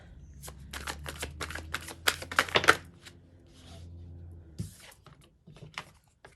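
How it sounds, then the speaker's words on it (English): Tarot cards being drawn and shuffled from a deck during a reading, a close run of quick papery flicks and snaps that fade into quieter handling and scattered soft taps, with no speech. "Let's get a couple more cards so we can just get a fuller picture."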